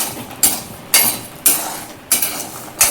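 Peanuts roasting in salt in a pan are stirred in regular scraping sweeps, five gritty rasping strokes about half a second apart, close and fairly loud.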